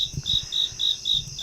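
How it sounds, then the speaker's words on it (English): Cricket chirping as a sound effect, a steady pulsing trill of about five regular chirps over a second and a half, clear and alone. "I've got crickets."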